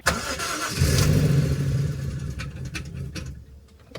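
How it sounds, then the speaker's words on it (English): A car engine cranks and catches after an oil service, settling into a steady mid-pitched idle that slowly fades; a few clicks sit near the end. "Now just gotta start the car."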